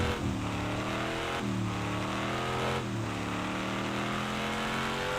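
A red truck's engine drones steadily in the video game Tornado: Research and Rescue, with repeated rising revs that slip back as it drives over slick ground, loud and continuous with no talk.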